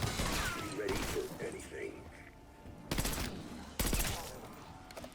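Marksman rifle fire in Black Ops 6: sharp, loud single shots ringing out in a quick sequence with mechanical clatter between, over a busy game background with some speech.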